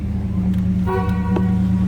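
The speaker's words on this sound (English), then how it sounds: "Horn works." A 1978 Chrysler Cordoba two-door T-top sounds its horn partway through: a steady, buzzy honk that holds to the end. The original 360 V8 idles with a low rumble beneath it.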